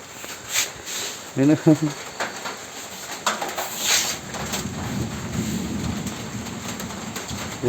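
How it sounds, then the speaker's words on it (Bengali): Rain falls steadily in a village, a soft continuous patter with a bird calling briefly, while people talk nearby. "বৃষ্টি পড়তেছে"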